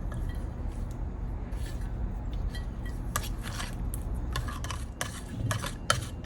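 A spoon stirs and clinks in a bowl of sauce made with brown sugar, rice wine, ginger powder and fermented red bean curd for taro pork belly. The scraping and tapping sounds are close, over a low background hum.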